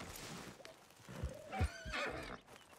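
A horse in Red Dead Redemption 2 whinnies loudly and close by, with hoof clops and scuffling around it.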